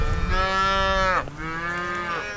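A calf on a Montana ranch gives a long, loud, close moo that dips and then rises again, with no other sounds around it.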